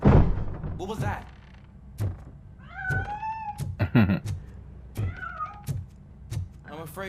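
Cat meowing in the video game Robocop: Rogue City: several drawn-out, wavering meows spread across the clip, interleaved with thumps and knocks, fairly close and clear.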